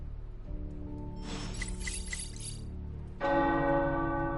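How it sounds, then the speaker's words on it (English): Tower bells ring in the Midnight Suns video game, a deep sustained clang with long humming overtones, then a second louder strike that swells and hangs in the air, with no voices over it. "The tower bells are ringing."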